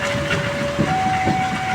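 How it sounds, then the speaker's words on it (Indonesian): Kauripan passenger train running through level crossing JPL 286A near Kediri, a steady loud rumble of wheels on rails with a sustained whistle-like tone, close by and continuous, no voices. "Kereta api Kauripan melintas langsung di JPL 286A"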